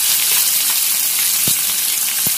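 Onion, cumin and curry leaves fry in hot oil in a pan, a loud dense continuous sizzle with two brief low knocks of the utensil, no voices.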